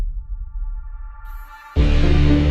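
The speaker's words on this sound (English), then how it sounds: "the synth in the background, the synthesizer" Synthesizer in a song: sustained tonal layers swell gently, then a dense, loud full-band section bursts in near the end.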